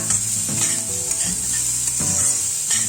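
Two large chopped onions frying in a pan, a soft continuous sizzle with light stirring scrapes and occasional clinks, close and alone with no talk.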